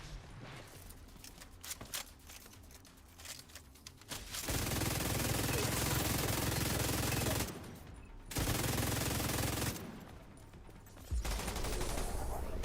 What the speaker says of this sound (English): One of them hopped back on the minigun.